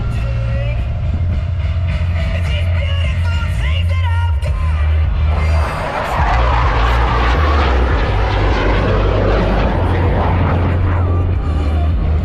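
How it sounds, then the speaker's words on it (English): A Blue Angels jet roars loudly overhead during a hesitation roll at an Orlando air show, a sustained heavy engine rumble that swells and shifts as the aircraft passes, with crowd and announcer sound faintly beneath. "they will roll their aircraft 360 degrees, pausing after each 90 degrees of rotation"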